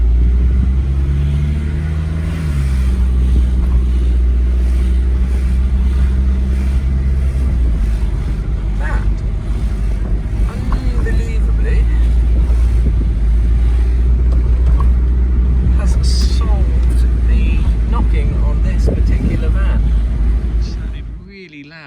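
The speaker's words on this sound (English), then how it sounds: "Let's try driving up a bumpy road." Engine and road rumble of a Mazda Bongo van driving up a bumpy road, a loud continuous drone with occasional thumps and rattles from the front end, under a voice talking throughout.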